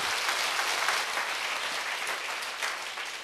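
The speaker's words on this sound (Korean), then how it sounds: "자, 박수로 세게 칩시다." A church congregation at a Sunday worship service claps loudly and steadily, a dense, even wash of applause lasting a few seconds.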